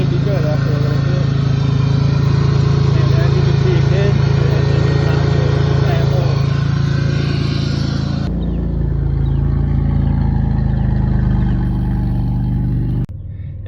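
A GM 3800 V6 idles steadily and loudly at close range after a driver's side engine bracket replacement, a constant droning hum that drops in pitch partway through before cutting off near the end.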